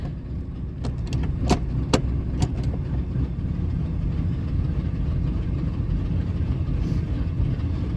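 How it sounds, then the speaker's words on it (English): A 2000 Ford F-150 truck engine runs with a steady low rumbling chug after being shifted into gear, the tone continuous and close with a few faint sharp ticks early on, and no speech. "She definitely starts chugging harder when I throw her in gear."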